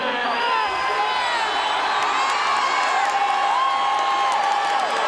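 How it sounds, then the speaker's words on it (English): An arena crowd at a wrestling event cheers for a wrestler, a dense sustained roar with whistles and whoops rising and falling, steady and loud throughout. "I'm not used to a lot of people cheering for me."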